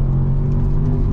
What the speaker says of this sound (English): It's unreal how responsive the engine is to the throttle.